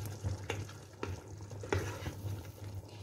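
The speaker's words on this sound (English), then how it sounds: "I fry the onion, garlic, meat, and then I add salt and pepper" Onion, garlic and meat frying in a pan for a red sauce, a steady sizzle broken by repeated scraping stirs about every half second, close and moderately loud.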